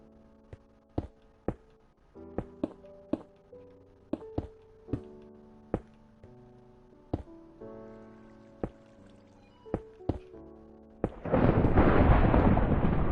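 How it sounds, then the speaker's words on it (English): In a Minecraft cave during a thunderstorm, a steady series of sharp block-hitting knocks sits over soft musical tones, then a sudden loud thunder crash roars in near the end. "Love me a good thunderstorm."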